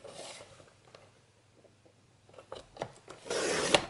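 Paper or card for a photo album box cut into 2 cm strips: quiet scattered scraping at first, then a cluster of crisp cutting strokes and a louder sustained rasp at the end, close up and without speech.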